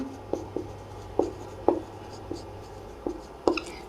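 Pen writing on paper while working through a class 12 maths exercise, a series of faint, separate scratchy strokes and taps in a quiet room, with no clear talk.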